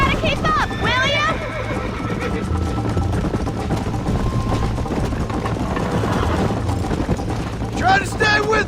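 Horses galloping and neighing in Red Dead Redemption, steady hoofbeats running throughout with a shrill whinny near the start and another near the end, mixed with wind and game noise and voices calling out.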